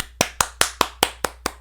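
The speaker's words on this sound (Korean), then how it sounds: "박수!" A church congregation at a Sunday worship service claps in unison, seven sharp, evenly spaced claps about a fifth of a second apart, loud and close with no voices.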